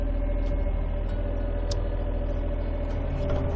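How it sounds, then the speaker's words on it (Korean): A Hitachi ZX35 mini excavator's small diesel engine runs steadily under load with a constant low, rumbling drone and faint mechanical whine, heard up close with no talking. "RPM을 조금 더 올려서 엔진의 부하를 한번 줘 보도록 하겠습니다"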